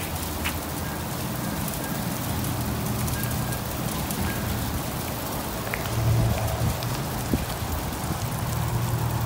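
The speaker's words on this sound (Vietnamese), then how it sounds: "Giờ nó mưa đá xuống rồi các bạn" Small hailstones fall steadily in San Jose, California, making a dense, even patter on surfaces nearby that swells slightly toward the end, with no talking.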